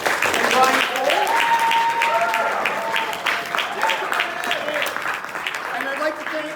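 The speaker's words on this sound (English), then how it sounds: "big round of applause for Adam and Brian Cole" Audience applause for Adam and Brian Cole at a band clinic sponsored by the Alberta Band Association, steady clapping throughout with cheering voices and a whistle-like tone over the crowd.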